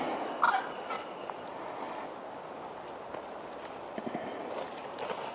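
A wild turkey gobbles once at middle distance during a spring hunt in Georgia, a brief rattling burst followed by quiet woodland ambience with faint rustles and footsteps.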